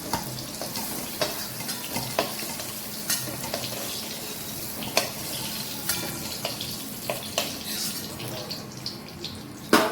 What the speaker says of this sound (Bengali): বেগুনগুলো ভেজে তুলে নেব, খুব বেশি ভাজবো না, হালকাই ভাজবো।